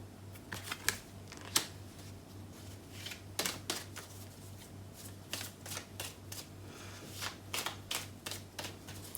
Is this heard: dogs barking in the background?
no